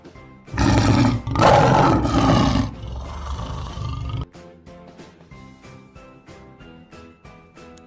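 A lion lets out a loud, deep roar lasting a couple of seconds that fades into a rumble, followed by a quieter patter of tinkling, ticking sounds.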